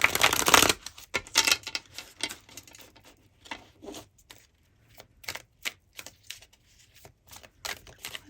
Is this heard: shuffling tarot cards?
yes